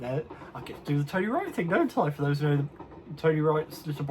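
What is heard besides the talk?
None of the usual background noises is heard.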